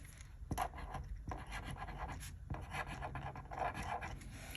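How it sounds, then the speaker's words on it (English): A pen scratches across paper, writing out a weekday schedule on a half-sheet paper planner, with steady soft strokes and short pauses between words, close and quiet. "Just write that out."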